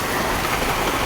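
Heavy rain pours steadily over a rice field, a dense continuous hiss of falling water with no pauses and no voices.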